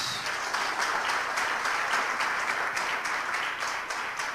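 A church audience applauds during a Sunday celebration service, a broad continuous wash of many hands clapping, moderately distant and even throughout.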